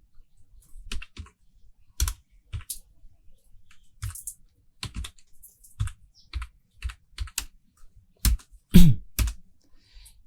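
Keys on a computer keyboard clatter as PHP code is typed, with irregular bursts of sharp, close clicks separated by short pauses and a few heavier strikes near the end.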